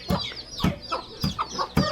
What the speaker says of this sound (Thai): ได้ยินเสียงไก่ฮ้อง